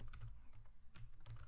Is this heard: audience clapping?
no